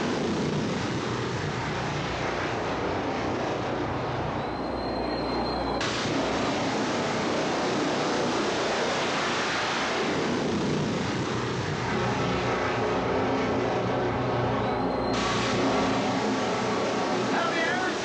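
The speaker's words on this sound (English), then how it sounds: "Bob Mose's incredible jet truck." Jet-engine Kenworth truck making a drag-race pass before packed grandstands: a sustained loud roaring whoosh with high whine filling the whole stretch, swelling as it passes, with crowd and announcer noise blended underneath.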